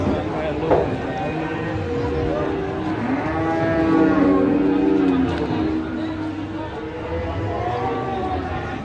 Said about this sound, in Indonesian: Penurunan sapi galak.